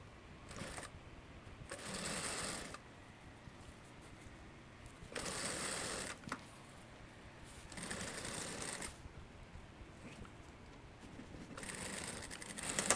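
A sewing machine stitches the armhole of a long vest in four bursts of rapid, whirring stitching, each lasting about a second, separated by quiet pauses, close and fairly quiet, with no talk.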